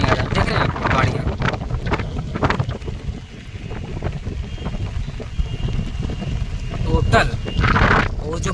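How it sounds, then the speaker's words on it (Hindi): Strong wind buffets the microphone beside floodwater in Prayagraj, a continuous roaring gusty rush with surges near the end, while someone talks over it. "इतना तेज़ हवा चल रहा है कि पूरा मोबाइल पर पानी आ रहा है"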